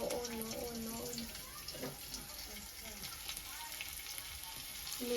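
Chili dropped into a pan of frying Maggi noodles gives a steady, moderately loud sizzle with faint crackles, partly under a voice talking over it.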